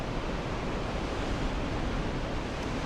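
Steady, dense roar of rough sea waves bursting through and breaking against rocks, continuous and fairly close with no voices.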